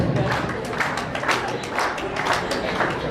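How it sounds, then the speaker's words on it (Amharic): Applause from a gathered crowd welcoming Dani at a graduation celebration, a steady wash of many hands clapping at moderate distance, continuous for a few seconds. "እቺን የጥቁር ቆንጆ ዳኒ አጨብጭቡላት።"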